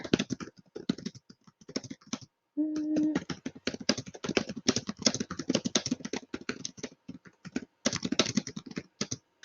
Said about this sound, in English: I can click on text entry, and just type my answers in here